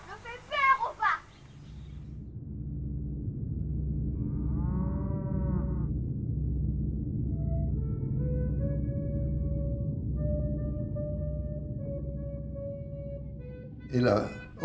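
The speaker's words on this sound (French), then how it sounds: "T'as vu, papa, les vaches?" Cows low in long, deep, drawn-out moos at a middle distance, one call after another with a steady tone holding toward the end, while children's voices chatter briefly at the start and close.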